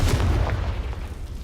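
A Confringo fire spell explodes in Hogwarts Legacy, a deep, rumbling boom that fills the short moment and fades slowly, loud and close.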